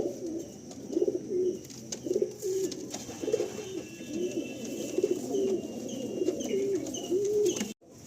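Malwai Madrasi Andhra pigeons coo in repeated throaty phrases, close and steady, with no talk, ending in a brief dropout near the end.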